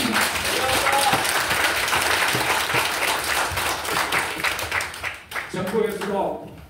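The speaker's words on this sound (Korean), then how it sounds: "제 의견에 동의한다면 박수를 좀 부탁드리겠습니다." A hall audience at a public hearing on mental health policy breaks into sustained applause, dense and loud, tapering off near the end as a voice resumes.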